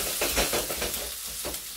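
Ginger and garlic hit a hot pan for Sprite chicken, with a steady close sizzle of frying and a few soft scrapes and stirs against the pan.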